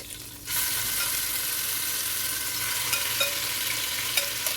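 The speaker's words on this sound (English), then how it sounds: "I will now take them out into a plate and I will fry the last batch" Pork sizzles steadily in a hot pan, a constant bright crackle with occasional small pops and stirring scrapes, close and without talk.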